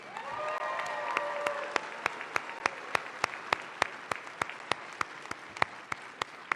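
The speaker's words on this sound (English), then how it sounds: "how about a round of applause for our moderator, Kathy Ward?" An audience at a Texas gubernatorial debate applauds the moderator: loud, dense clapping that thins out over a few seconds into scattered, individual claps.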